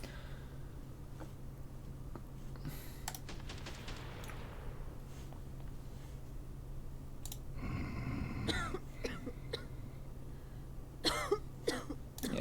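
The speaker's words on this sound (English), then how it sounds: "Yeah, she's got a bit of a cough." A female character in the video game Quarantine Zone coughs in several short, harsh bursts, with a couple of separate coughing fits over quiet background hum and no speech.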